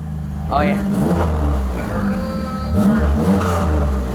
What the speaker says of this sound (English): Got the Flowmaster exhaust.